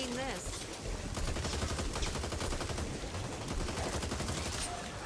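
Fairly faint, dense, continuous rattle of rapid gunfire from the co-op zombie shooter Back 4 Blood, shots blurring together under a busy, noisy game mix.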